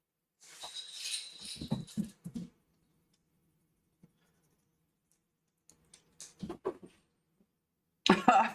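A few harsh coughs in a short burst, then quiet, with another cluster of coughs and a final rough burst near the end.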